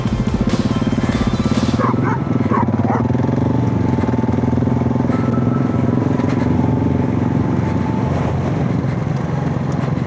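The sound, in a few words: shepherd dog barking beside motorcycle trail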